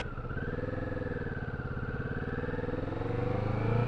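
A car overtakes a motorcycle on its left in a French roundabout, heard from the rider's position as a steady engine drone with rising pitch, close and continuous, with no talk.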